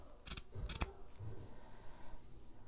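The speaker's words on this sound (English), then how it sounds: "so that side needs to be cut a little bit" Scissors cut through shipping material being made into a cover, giving a few quick close snips early on, then quiet handling noise.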